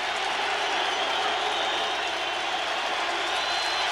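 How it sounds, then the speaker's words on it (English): A steady, dense roar from a stadium crowd at an NFL football game, the Chargers at the Colts in Indianapolis in 1995, fills the space continuously at moderate distance with no break. "Crowd noise really kicking in"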